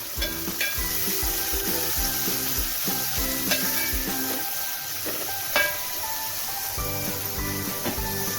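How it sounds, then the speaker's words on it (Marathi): Onion sautéing in a pan with curry leaves gives a steady close sizzle and hiss, with repeated scraping and clinking from stirring throughout and no talk. "आपण कांदा परतवून घेणार आहोत"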